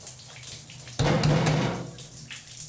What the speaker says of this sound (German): Und dann wird die Butter abgewaschen.